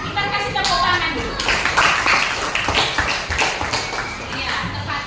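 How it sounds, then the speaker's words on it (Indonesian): A short burst of clapping from a group, brisk and scattered, with voices mixed in beneath it. "kita kasih tepuk tangan dulu."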